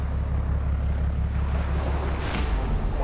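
Rough sea waves and strong wind buffet a bamboo-rig Spanish mackerel fishing boat at sea, a loud continuous roar with heavy low rumble and a brief surge of spray near the end, no voices.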